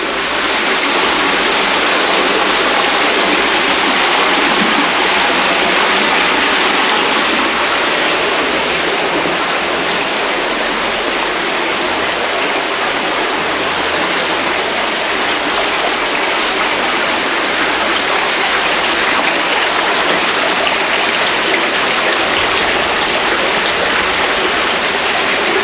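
Foamy floodwater rushing steadily through a flooded coal mine passage in New Zealand's West Coast, a loud continuous broadband wash with no pauses.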